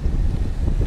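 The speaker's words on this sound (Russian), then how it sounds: "Ветер шумит, выключаю." Strong wind buffets a microphone at the seaside on a surf beach, a dense, steady low roar filling the short moment with no voices.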